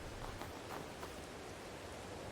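Steady outdoor rainfall in a wilderness clearing, a soft, even hiss of drops on surfaces with faint scattered patters, moderate and continuous throughout with no voices.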